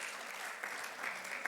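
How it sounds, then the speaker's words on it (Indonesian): A church congregation claps in a short, soft burst of applause, distant and even, with a faint murmur beneath. "Mari berikan sekali lagi tepuk tangan."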